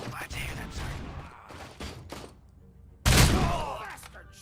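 Video game gunfire, a burst of shots with loud sharp cracks and a big blast near the end, close and punchy, mixed with voices talking in the game.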